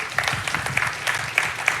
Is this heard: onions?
no